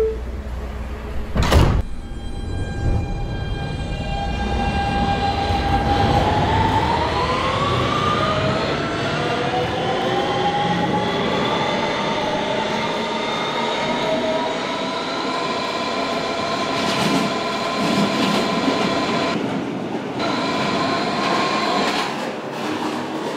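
A Roblox Kawasaki R160B Siemens subway train on the Manhattan-bound Q local closes its doors with a sharp thump, then departs, its motor whine rising smoothly in pitch and holding loud and steady as it picks up speed.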